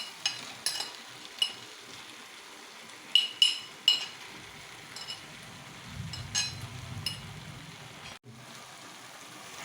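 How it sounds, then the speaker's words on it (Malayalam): Fried idli is stirred in a pan with a soft sizzle, broken by sharp scraping clinks of the spoon at irregular intervals and a brief low rumble near the end. "അതിലേക്ക് ഇഡലി ചേർത്ത് നമുക്ക് ഇളക്കിയെടുക്കാം."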